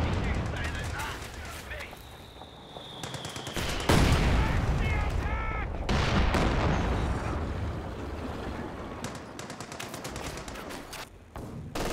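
Machine gun fire in the Company of Heroes 2 video game rattles in rapid bursts alongside other gunshots and heavy explosive booms, forming a dense, continuous battle din that rises and falls in intensity.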